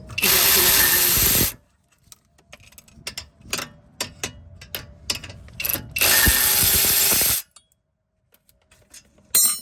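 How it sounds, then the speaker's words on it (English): An electric ratchet spins out a rear brake caliper bracket bolt on a BMW E46 330ci/330xi, with two loud whirring bursts separated by a run of sharp ratcheting clicks and clatter. "I'll just use my electric ratchet to get this"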